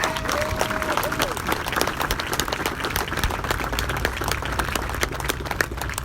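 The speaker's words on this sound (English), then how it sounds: "it's worth a round of applause" Sustained applause from an outdoor audience at a Memorial Day ceremony in Anchorage, steady dense clapping running the whole stretch with a brief tonal whine early on.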